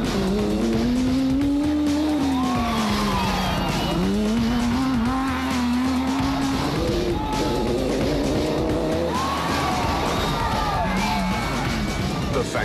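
Off-road race cars starting a desert race in the Toyota 1000, with loud engines revving and changing pitch as they pull away, the roar layered and continuous, with a commentator talking over it.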